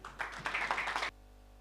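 Applause greets the group Canto de Esperanza at a Sunday church service, a burst of clapping about one second long that stops abruptly.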